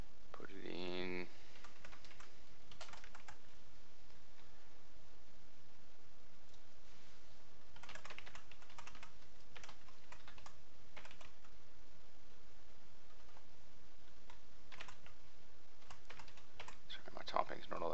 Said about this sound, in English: My typing's not all that great at the moment with one hand